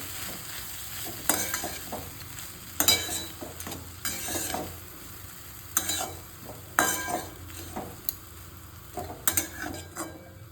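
A spoon stirs Vidarbha-style ghugrya with coriander in a pan, producing a series of scraping, clattering strokes at irregular intervals over a faint background, close and fairly clear with no talking.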